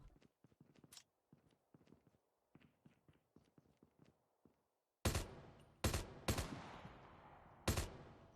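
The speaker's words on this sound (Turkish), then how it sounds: "Ayak sesleri." Footsteps inside the Call of Duty Mobile video game: quick, light steps tap in a steady run for about five seconds. Then several loud, sharp gunshots break in, each trailing off, and the steps fade under them.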